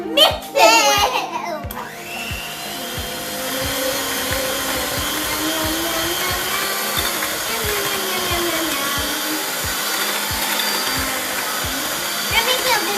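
An electric mixer beats vanilla cupcake batter with a steady, loud whirring hum that runs throughout, along with a regular ticking of the beaters. Someone talks briefly at the start.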